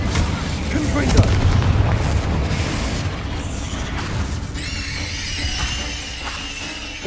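Confringo explosive spell cast in Hogwarts Legacy, a heavy booming blast followed by rumbling debris and a sustained roar, with a bright shimmering magical tone rising near the end.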